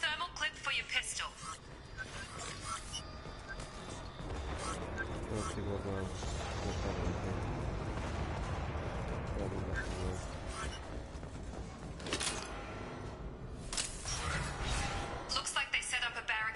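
Explosions and gunfire rumble through a Mass Effect 2 firefight, a dense, sustained roar with sharper bursts near the start and end, while in-game voices talk over the din.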